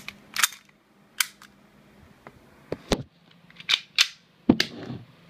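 Sharp gas blowback shots from a WE G18C airsoft pistol, fired singly and in short pairs at irregular intervals across a few seconds, each crack followed by a brief metallic clack, close and fairly loud.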